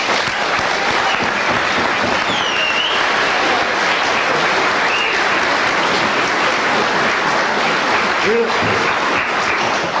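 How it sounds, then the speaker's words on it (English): Sustained applause from an audience for the cast of the Athea Drama Group's production of 'The Chastitute', continuous broad clapping throughout with a few faint voices and whoops breaking through. "Give them all one round of applause again"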